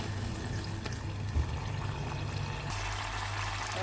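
Sour yogurt poured into an egg curry in a home kitchen gives a steady, soft liquid pour with a faint splash, continuous throughout at close range, without voices.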